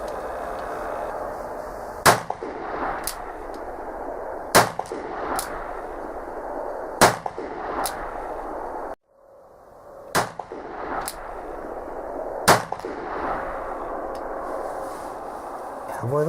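Cap shots from an Uberti 1860 Army percussion revolver, its nipples recently cleaned of heavy fouling: sharp, loud single pops spaced a second or more apart, about ten in all, with a short silent gap midway.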